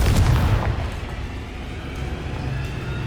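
A Confringo blasting spell erupts in Hogwarts Legacy, a loud booming explosion at the start that rolls off into a lingering rumble.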